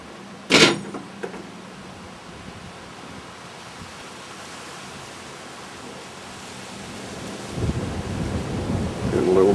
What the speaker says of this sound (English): Getting a little breezy.